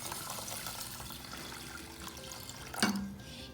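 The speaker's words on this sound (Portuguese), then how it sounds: "A gente vai despejar um pouco de água." Water poured into a pot of rice for sushi makes a soft, steady running wash, ending in a brief louder splash near the close.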